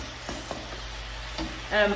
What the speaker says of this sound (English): Right, so that's the chicken sizzling away